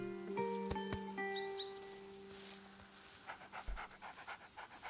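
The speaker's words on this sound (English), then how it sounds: "Hey doggy, you can pet the dog." A dog pants in quick, rhythmic breaths close by in the video game A Plague Tale: Innocence, following a few clear tonal game chimes, with no talking.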